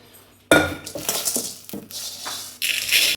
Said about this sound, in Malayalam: കുക്കർ എടുത്തിട്ടെ.